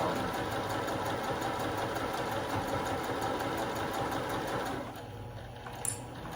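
A sewing machine stitching a fabric seam runs in a continuous, close whirring hum, then stops near the end, leaving a quiet room.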